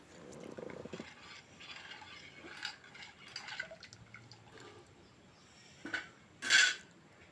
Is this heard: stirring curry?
yes